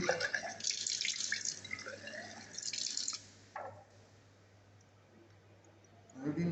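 Water runs from a tap into glassware during an iodometric titration of copper sulphate in a chemistry lab, a bright splashing stream for about three seconds, then quiet with faint clicks and a brief return of flow at the end.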